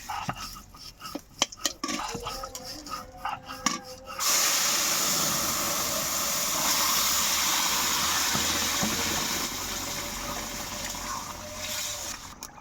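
Bay leaves dropped into hot oil in a pan, with a steady broadband sizzle that starts after a few seconds of clattering and continues alone at moderate loudness.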